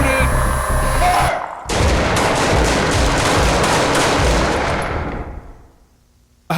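Rapid bursts of automatic gunfire rattle loud and close for several seconds in a mall during a monster attack, cutting in after a brief pause and fading out near the end.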